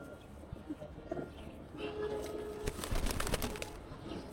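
Pigeons in a loft coo softly at low level, with light rustling and a flap or two as the birds shift about. Faint voices can be heard in the background.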